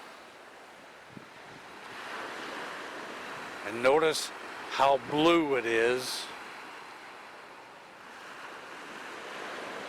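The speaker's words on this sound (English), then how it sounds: "all you hear is the sound of the water coming in" Waves wash onto the shore at a quiet, peaceful beach at Columbus Landing National Park on Grand Turk, a steady surf hiss with light wind, while a person speaks briefly in the middle.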